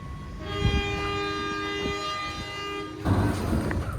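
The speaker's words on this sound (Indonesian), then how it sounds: "kereta api Sri Tanjung berangkat dari stasiun Mojokerto" The Sri Tanjung passenger train departs Mojokerto station, its horn sounding a sustained tone for a few seconds amid rail rumble and clatter, followed by louder wheel noise as it gets moving.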